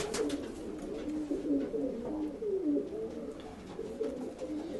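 Pigeons coo in soft, rolling murmurs close by, several birds overlapping in a continuous burbling chorus over faint background noise.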